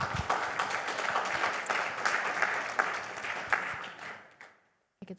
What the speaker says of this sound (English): give a round of applause to Pak Mike.